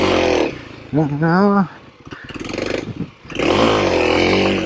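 A dual sport motorcycle on pavement revs hard for a wheelie attempt, the engine climbing in pitch, dropping, then roaring again close to the microphone, with brief speech in between.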